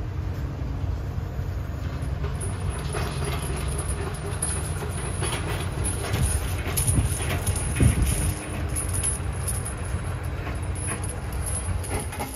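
A rail construction train unloading rail for a future crossover creeps forward on the tracks near a street crossing, a low continuous rumble with faint clanks and wind, rising slightly around eight seconds.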